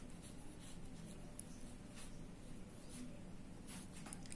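A pen writes on paper in a quiet room, giving a faint, steady scratching with small strokes throughout and no talking.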